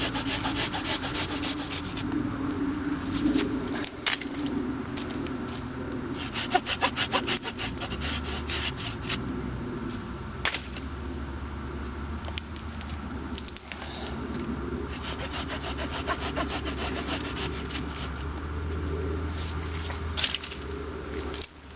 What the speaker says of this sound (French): Allez, on scie l'arbre.